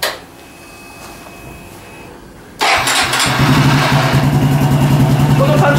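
A Honda Cross Cub 110 motorcycle fitted with a Bomber aftermarket muffler starts up after a quiet stretch, then settles into a loud, close, steady thumping idle.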